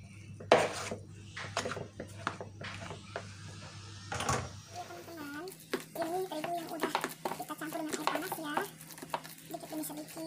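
A utensil stirring tapioca dough mixed with hot water in a bowl or pot, with repeated clinks and scrapes in an irregular rhythm, fairly quiet and close, while someone talks in the background.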